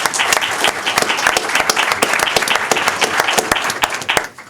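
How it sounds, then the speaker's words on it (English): A conference audience gives a loud, dense round of applause that holds steady throughout, then stops abruptly. "Can everybody help me give a round of applause?"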